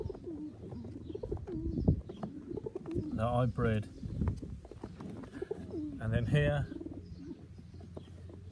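Pigeons coo in a loft housing pilot stock birds, two clear rolling coos rising out of nearby softer calls while someone talks throughout.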